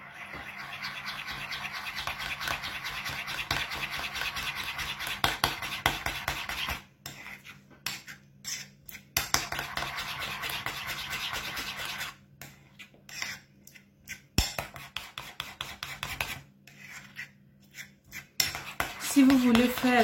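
A rice face mask being stirred in a bowl, with rapid scraping and clinking of a utensil against the dish, coming in bursts broken by brief pauses, close and fairly quiet.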